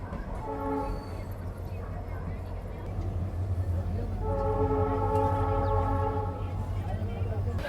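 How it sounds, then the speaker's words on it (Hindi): A train arrives at Lalgarh Junction railway station near Bikaner, close to the India–Pakistan border. Two long horn blasts sound over a steady rolling rumble, the second blast longer and louder. "हमारी ट्रेन का अराइवल हो रहा है लालगढ़ जंक्शन रेलवे स्टेशन पे"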